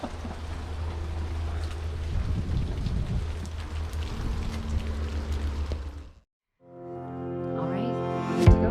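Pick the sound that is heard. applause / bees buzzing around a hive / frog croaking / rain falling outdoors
rain falling outdoors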